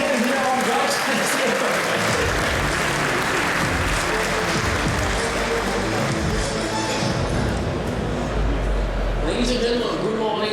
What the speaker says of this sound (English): Please give him a big hand here on GITEX.